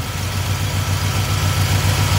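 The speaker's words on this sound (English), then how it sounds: "This engine will be doing good on 8." Small block Chevy engine with an Edelbrock carburetor idling steadily, a low, even rumble that stays constant throughout with no voices.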